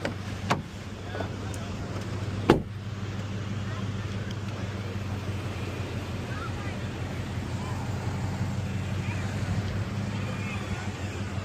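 A Toyota Tundra pickup crawls slowly over rough off-road terrain, its engine a low, steady drone throughout, with wind buffeting the microphone and a couple of sharp knocks early on.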